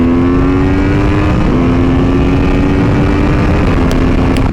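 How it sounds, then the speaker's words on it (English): An Aprilia Tuono V4R motorcycle engine pulling hard under open throttle, a loud sustained drone rising in pitch with a brief dip where a gear changes, heard close and alone. "But man, is it fun just ripping the throttle, just going blam, blam, blam."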